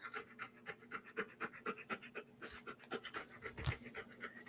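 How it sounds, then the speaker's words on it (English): A dog pants in quick, rhythmic breaths close by, a steady run of short huffs that continues throughout without any talk over it. "It's him who's panting."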